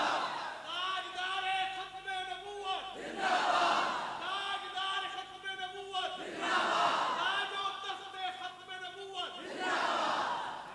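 A crowd at a naqabat gathering at Jamia Farooqia, Madani Colony chants a slogan back in loud, rhythmic waves, with several surges of massed voices rising and falling over about ten seconds.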